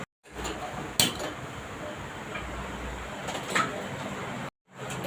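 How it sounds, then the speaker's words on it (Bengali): A freshly washed metal kadai is set down on a gas stove with a single sharp clank, followed later by a lighter knock. Quiet kitchen room noise runs between them, and a brief dropout cuts the sound near the end. "কড়াটা ধুয়ে নিয়েছি, গ্যাসে বসিয়ে দিলাম।"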